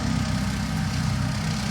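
A Kioti tractor running a bush hog mower gives off a steady, loud, low engine drone with a rhythmic throb, heard alone without talk.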